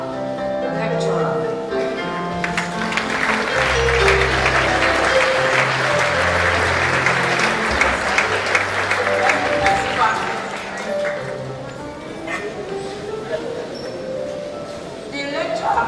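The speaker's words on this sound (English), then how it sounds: "please can we stand up once again to just thank, to welcome and clap for our lecturer" Sustained audience applause fills a hall as people stand to welcome a lecturer at a public lecture on Nigeria's federal system, swelling loud and dense before thinning out, with a voice or two audible over it.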